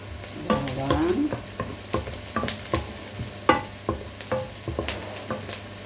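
Garlic sizzles in a pan under a constant soft frying hiss, punctuated by irregular scrapes and clinks of a spatula stirring it, close and fairly quiet, with no talking.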